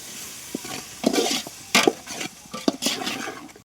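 Tomatoes being stirred in a pan for chicken biryani at a village cooking spot, with a run of scraping, sloshing strokes over a soft frying sizzle and no talk.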